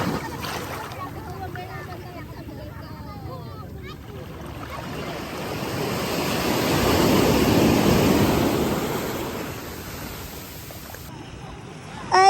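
Sea waves along the coast at Infanta, Quezon, heard from a moving ride, a broad steady wash that swells loudest midway and then eases, mixed with wind noise and occasional voices.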